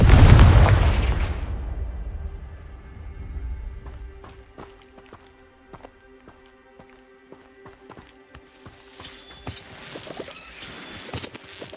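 A Confringo fire spell from Hogwarts Legacy detonates in a loud, deep blast at the start, then decays into quieter scattered impacts, clicks and a sustained tonal hum.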